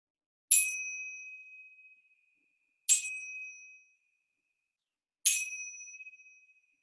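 Three clear, bright chime strikes spaced evenly apart, each ringing out and slowly fading into silence before the next.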